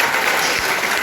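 Audience applause at an event, a steady, dense wash of clapping from a crowd filling the whole stretch at even loudness.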